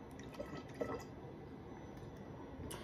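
Cold water pours steadily into a batch of mead being made with a hot ginger mixture, a soft continuous splashing and dripping wash with a few brief louder drips, close and moderately quiet.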